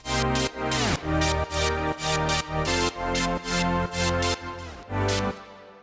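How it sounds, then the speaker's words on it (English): A reverb-drenched, filter-chopped synth for a K-pop track pumps in a steady run of about a dozen gated pulses, each swelling and cutting off rhythmically before a final fade into a short tail. "And we're adding some reverb."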